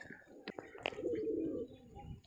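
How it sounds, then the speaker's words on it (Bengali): A Kamakar dub pigeon gives a low, soft coo lasting about a second, heard close but faint, with a few light clicks and background noises around it. "এখন একটা কামাকার ডাব পায়রা দেখতে পাচ্ছ"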